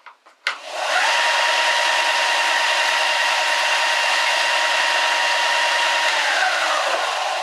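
A belt on a Mastercraft 4x36x6 belt and disc sander is cleaned with a brush. A few light knocks give way to a loud, continuous, even whirring rasp that holds steady and then starts to fade at the very end.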